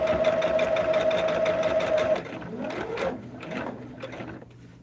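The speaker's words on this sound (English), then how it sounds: "So I'm gonna drop that down, and we're gonna sew." Sewing machine stitching a log cabin hexagon table topper along a seam line, a close steady whirring run with a tonal motor hum, then stopping into a few ratcheting clicks and handling sounds.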